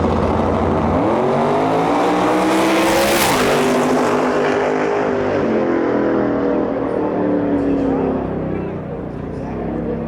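A drag race car makes a solo pass at a Lights Out eliminations event, its loud engine roaring up through rapid gear changes and then trailing off into the distance, with a commentator talking over the run.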